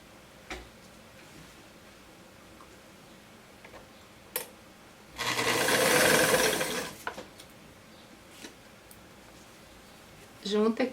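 A sewing machine runs in one brief burst of stitching on a summer dress, surrounded by scattered clicks and taps of fabric handling, with a short second burst at the end.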